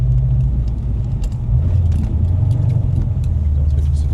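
A Subaru STI pulls away on the frozen Saint Lawrence River, its engine a steady low rumble that shifts pitch about midway as it gets moving, loud and close, with faint voices at times.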